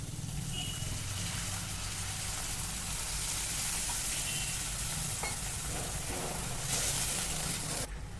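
Water poured into a pan of fried onion, tomato and chili paste for pithla, setting off a steady, close sizzle and bubbling hiss that runs the whole way, with a brief louder burst near the end.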